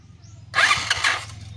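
A motorcycle starter cranks briefly without the engine catching, a short close burst of mechanical whirring and sputter after a quiet moment.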